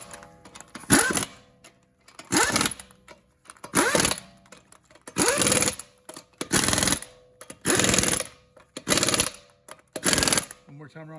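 Bursts of a pneumatic impact wrench driving wheel lug nuts on a Dodge Durango, about eight hammering rattles of roughly a second each separated by short pauses, loud and close.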